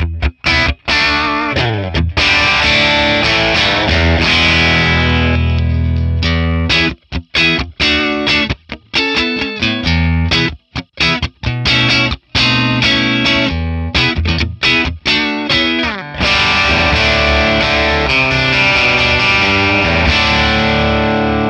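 A Telecaster electric guitar played through a Friedman PLEX amp capture, without reverb, rings out loud and distorted with sustained chords broken by short choppy stops and bursts of riffing, playing alone.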